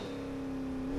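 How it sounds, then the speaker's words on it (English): A loud drift car engine in the Assetto Corsa racing game holds a steady droning note that swells slightly at the very end. "This car is so much louder than that Polo."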